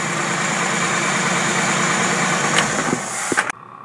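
Engine with three single-barrel Rochester carburetors on a 3-in-1 manifold, idling at 800 RPM: a steady, close, low rumble that holds evenly, then a few sharp knocks just before it cuts off.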